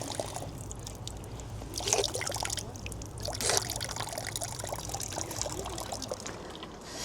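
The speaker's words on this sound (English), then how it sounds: "I believe this is the last natural spring within the city itself, just coming through the wall here." Natural spring water trickles out through a wall in Liverpool, a thin continuous outdoor flow with a few stronger gushes over faint background noise.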